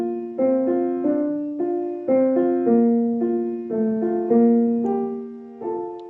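Solo piano plays a Couperin piece with a legato left hand, a gentle stream of overlapping notes in a steady moderate rhythm, clear and close with no voices.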